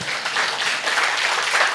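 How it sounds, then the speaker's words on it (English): Audience applause after a talk at a tech conference, a brief, even wash of clapping that holds steady from start to finish. "One more time, round of applause for Austin."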